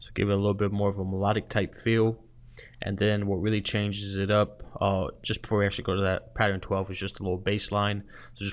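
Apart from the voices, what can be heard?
No everyday noises stand out.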